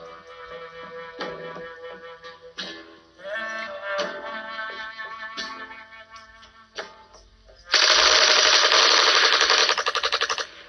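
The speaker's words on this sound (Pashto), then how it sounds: "ډزې بندې کړئ" Machine gun fire in a drama scene: a loud, continuous rattling burst of automatic shots over the last few seconds, preceded by quieter tonal sounds and scattered knocks.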